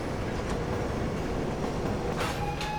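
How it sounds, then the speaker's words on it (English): A train rolls along in Fallout 4, a steady dense rumble with faint rail clatter and a brief high squeal near the end, continuous and moderately loud. "So what we have to do is to bring the train here."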